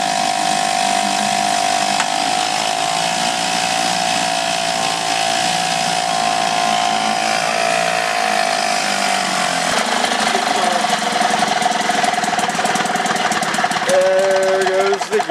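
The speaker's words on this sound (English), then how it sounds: "It's a good little engine." A restored Elgin 7.5 outboard engine runs in a test barrel with a loud, steady, close rattling drone, its pitch shifting slightly near the end as it runs out of fuel.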